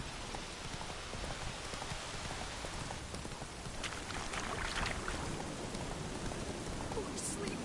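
Roach the horse gallops in The Witcher III, a quiet rapid clatter of hooves under a steady patter like rain. The hoofbeats stay faint and low in the mix throughout.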